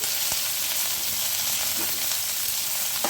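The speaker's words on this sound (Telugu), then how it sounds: "ఆనియన్స్, పచ్చిమిర్చి, కరివేపాకు వేసుకొని" Onions, green chillies and curry leaves fry in oil, giving a continuous even sizzle with a few faint spoon scrapes and stirs, no voices.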